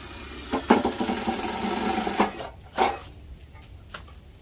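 Drill boring a half inch vent hole in a charcoal barrel, a buzzing whir for about two seconds followed by a few short bursts, fairly close.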